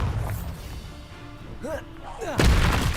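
An Expulso explosive spell in Hogwarts Legacy cracks out as a loud blast near the end, following a quick run of spell-casting whooshes and thuds, with a voice speaking over the action.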